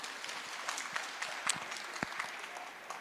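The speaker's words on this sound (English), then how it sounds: "So give her a big round of applause, please." An audience at a school reunion event applauds in a steady, faint wash of clapping heard from a distance, with a few sharper individual claps standing out and no speech.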